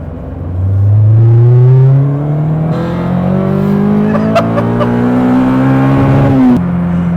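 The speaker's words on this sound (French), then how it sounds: "on va tirer juste en troisième pour qu'on entende vraiment le déclenchement du VTEC" A tuned Nissan Micra engine revs hard in third gear, pitch climbing steadily as the variable valve timing kicks in, loud and close from inside the car, ending with a sharp drop near the finish.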